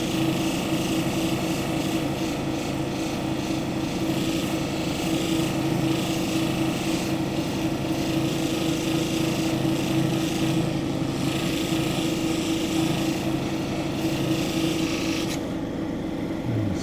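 A lapidary polishing wheel works a darker orange Brazilian agate specimen, giving a loud, steady whirring grind with a constant hum that holds throughout, close up and with no talking.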